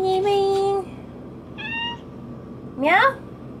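A pet cat meows three times at close range, a long drawn-out cry followed by two shorter rising calls, loud and clear over quiet room tone.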